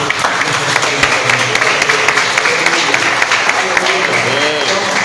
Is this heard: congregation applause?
yes